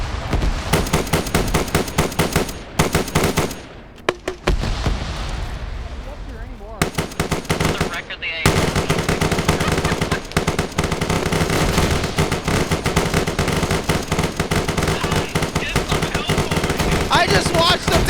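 Video game battle gunfire with rapid machine-gun bursts and grenade launcher blasts, loud and dense for most of the stretch with a brief lull, while people talk excitedly over it.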